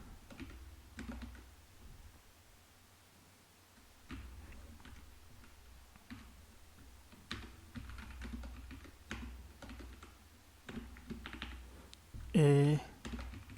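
Keys clatter on a computer keyboard in scattered, uneven bursts while code is typed, fairly quiet and close, ending with a brief sharper sound.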